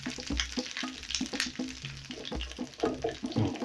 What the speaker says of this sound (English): I'm going to fry my garlic till it's fragrant. So I'll keep stirring it